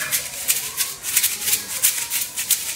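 Homemade maraca made from a juice can filled with rice, shaken in a steady rhythm of bright, hissy rattling pulses, close and alone.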